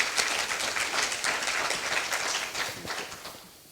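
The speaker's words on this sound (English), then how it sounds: "So round of applause for Mattia and for Alex." Audience at a science granting councils meeting applauds speakers, a dense burst of clapping from many hands that holds for a few seconds before tapering off.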